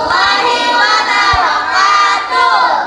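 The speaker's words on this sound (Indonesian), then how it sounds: "Kita kasih tepuk tangan untuk kelompok 2." A classroom group of children cheers and shouts loudly for a presenting group, with a dense, continuous crowd noise close by and a few scattered claps.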